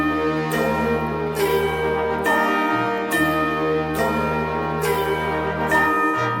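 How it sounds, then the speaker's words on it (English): Church bells ring out in a slow, repeating sequence of resonant strikes, each tone lingering and overlapping the next, fairly distant and steady. "them bells are playing loud and clear"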